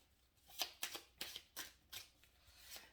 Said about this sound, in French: allez, je vais tirer 3 cartes.